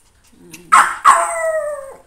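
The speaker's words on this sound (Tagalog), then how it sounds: "Yan tahol yung dalawa naglalaro." Two dogs barking as they play: a soft yip, then two sharp, loud barks in quick succession that stretch into a drawn-out howling whine, close by.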